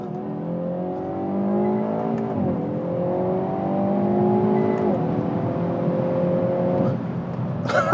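A Hyundai Veloster N engine climbs steadily through its gears as the car drives hard, with smooth rising pitch, brief drops at each upshift, and a loud close cabin sound.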